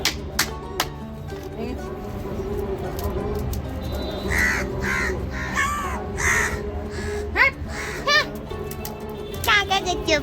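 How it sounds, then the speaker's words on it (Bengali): A crow perched on an air-conditioner unit caws in several sharp, fairly close bursts, while children and adults talk and play nearby throughout. "এসির ওপর বসেছে আমাদের স্পেশাল কাক।"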